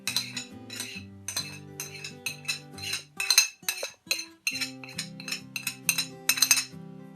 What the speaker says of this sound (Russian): Вот маринад мы смешали